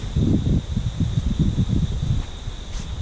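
Hurricane Dorian's wind gusts past the microphone in Hampstead, North Carolina, a loud rough roar pulsing in rapid buffets before easing off, with a faint steady whine in the background.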